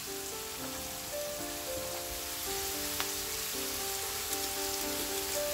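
Chicken, onion and spices fry in a pan with a soft, continuous sizzle and faint crackle, steady and fairly quiet throughout.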